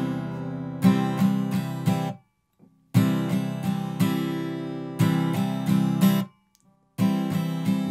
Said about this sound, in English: we'll go through the strumming pattern used in the intro and the verses